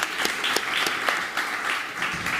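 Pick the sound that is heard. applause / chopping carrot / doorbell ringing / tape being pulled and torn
applause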